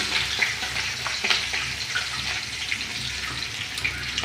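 Mustard seeds and green chillies fry in hot oil for an egg masala, giving a steady, close sizzle with faint crackles and no talking.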